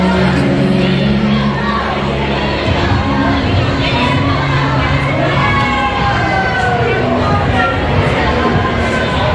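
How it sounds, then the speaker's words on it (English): A large crowd cheers and shouts after Philadelphia loses to the Cardinals in the NFL, a dense, steady roar of many voices with scattered yells, loud and continuous throughout. "That's what everybody's cheering about."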